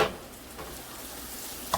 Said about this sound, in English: Now I better get a spoon and start stirring that.